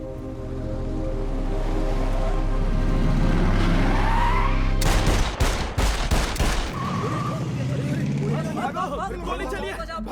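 Gunfire erupts in a tense movie scene: a rapid burst of several loud, sharp shots cuts through a rumbling soundtrack and crowd commotion, followed by agitated voices and ongoing background noise.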